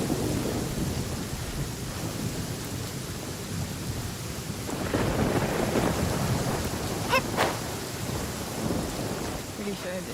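Rain pours steadily while thunder rumbles low and rolls through the middle in Genshin Impact, a continuous stormy wash with no talking.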